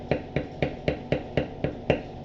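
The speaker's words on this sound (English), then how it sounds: "Now I'm just going to take my normal beveler and I'm going to bevel down" A metal beveler is struck repeatedly with a mallet on tooled leather lattice for a backpack, giving eight evenly spaced, crisp taps close up with no talk.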